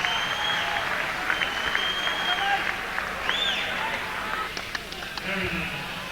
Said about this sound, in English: how about a big round of applause for David Yude and Dean Gaither